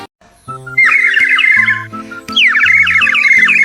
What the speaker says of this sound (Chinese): 水鸟口哨呀，只有加过水的才这么好听